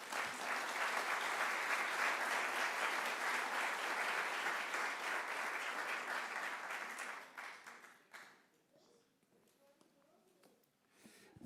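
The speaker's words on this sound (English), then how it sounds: "So a warm round of applause for Carl Josehart." Loud, sustained applause from a large crowd fills the room, then thins out into scattered clapping and fades toward the end.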